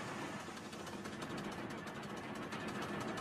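The Thumper quarry machine engine running in the Trainz railway simulator game, a steady, dense mechanical rumble with fast rhythmic knocking, even and continuous.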